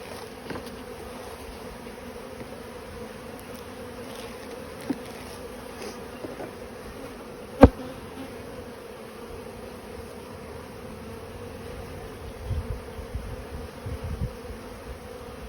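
Honey bees hum in a dense, steady buzz during a hive inspection in Australia, close and continuous, with a few sharp clicks and knocks from handling the hive and no talking.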